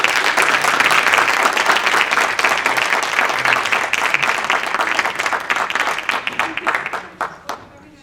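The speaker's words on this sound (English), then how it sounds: "let's give Dan a round of applause" A room of people at a board of education meeting applauds Dan, with dense, sustained clapping close by that thins into scattered claps and fades out near the end.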